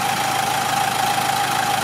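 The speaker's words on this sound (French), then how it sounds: "là on va démarrer le moteur et vérifier l'étanchéité, tout simplement" Renault Clio 4 1.5 dCi diesel engine from 2015 idling steadily during a service check, a continuous close mechanical hum with a strong steady tone and no talk.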